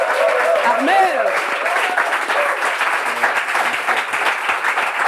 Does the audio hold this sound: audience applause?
yes